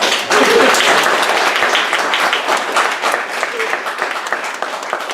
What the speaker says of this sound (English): Can we just have a quick round of applause for all of them?